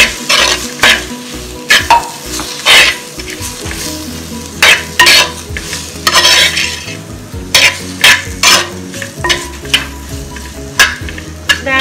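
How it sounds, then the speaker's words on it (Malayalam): Chopped bilimbi sizzles and fries in a hot pan while being stirred, with repeated loud scraping strokes of a spoon in a steady rhythm and no voices. "അപ്പൊ അതിലേക്ക് നമ്മൾ അരിഞ്ഞു വെച്ചിരിക്കുന്ന ഇരുമ്പൻപുളി, ഒന്ന് മിക്സ് ചെയ്ത് കൊടുക്കാം."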